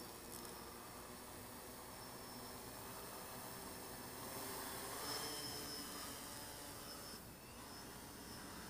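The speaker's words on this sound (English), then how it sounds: "And it says armed, and the motors are spinning." Motors of a 3D-printed quadcopter drone, a Walkera Vitus and Mavic Pro mix, spin in flight and give a faint, steady high whine with a gentle swell midway and no voices.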